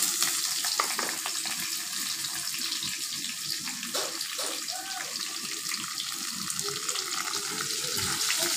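Crushed garlic and chopped onion frying in a pan, a steady broadband sizzle with a few faint clinks running evenly and close throughout.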